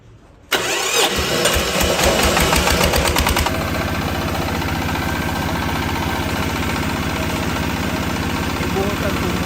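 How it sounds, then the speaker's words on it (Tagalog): The diesel engine of a shotcrete machine cranks and catches, then settles into a steady, loud, chugging idle that runs on without pause. "Ganito po ang pag-start ng makina."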